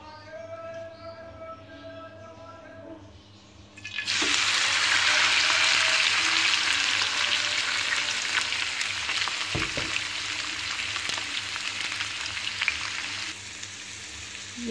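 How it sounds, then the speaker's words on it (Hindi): Chicken pieces go into hot oil in a bowl and set off a sudden loud sizzle that carries on steadily as a close, dense crackle, after a quiet humming stretch, with no talking. "ये आप देख सकते हैं हमने चिकन को फ्राई कर रहे हैं।"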